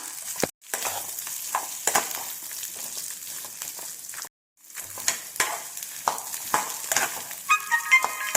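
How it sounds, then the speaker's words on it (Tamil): Indian gooseberry pieces and grated coconut sauté in hot oil, with a steady sizzle broken by repeated scraping stirs and two brief dropouts; a faint tonal chime sounds near the end. "இப்போ நம்ம எடுத்து வச்சுருந்த தேங்காயும் சேர்த்து போட்டு வதக்கிக்கலாம்"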